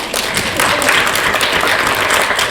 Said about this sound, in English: So, we get some clapping?